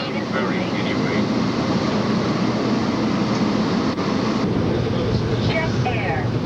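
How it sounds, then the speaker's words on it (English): A steady rumbling hum of the Newark Airport monorail in motion in 1997, with faint higher squeals and a hint of speech underneath. "Doors are closing. Please hold on while the train is moving."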